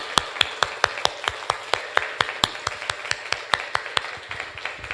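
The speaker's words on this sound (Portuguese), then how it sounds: "Vamos dar uma linda salva de palmas para esse Deus Emanuel, Deus presente." A church congregation clapping together in a steady, even rhythm of sharp claps, fairly close and unbroken for several seconds, with no voice over it.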